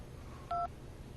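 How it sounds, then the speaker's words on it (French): A telephone in the video game Syberia 2 gives a single short electronic keypad tone, a brief clean beep over quiet background hiss, with no voices. "Oscar, vous utilisez un téléphone à présent."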